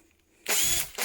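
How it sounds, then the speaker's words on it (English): A combi drill whirs briefly at full speed, stops for a moment, then starts again, loud and close. "I'm just pressing the button so you know it's a real drill."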